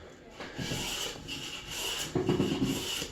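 A small Stanley Bailey hand plane shaves thin curls from a timber-framed table base, giving repeated close, breathy rasping strokes, with one heavier pass toward the end.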